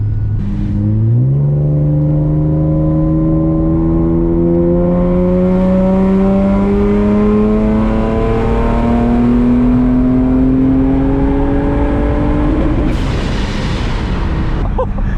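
A boosted Acura TL-S with VTEC enabled makes a wide-open-throttle pull from 2,000 to 6,000 rpm, its loud engine note rising steadily in pitch from inside the car before lifting off near the end.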